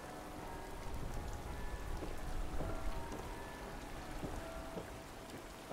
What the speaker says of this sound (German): Ich hoffe, der Regen ist nicht böse auf uns.